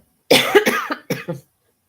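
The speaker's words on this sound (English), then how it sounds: "Don't mean to cough at you." A person coughs a few times in quick succession, close and fairly loud, then quiet.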